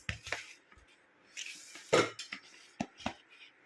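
Metal kadai set down on a stove in a home kitchen, a few sharp clanks and scrapes of metal, close and fairly quiet, with short gaps between knocks.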